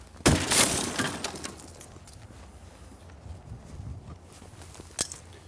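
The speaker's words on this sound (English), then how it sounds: "Breaking the next glass, peel and peaks, marking my cut location" Car window glass shatters with a loud burst during vehicle extrication on a car resting on its roof, followed by scattered crunching and tinkling of fragments and a sharp tap near the end.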